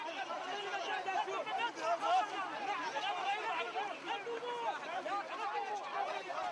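A crowd at an explosion scene chatters and shouts in a dense, overlapping babble of many voices, steady and fairly near with no single voice standing out.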